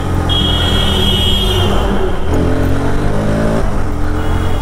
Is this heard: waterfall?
no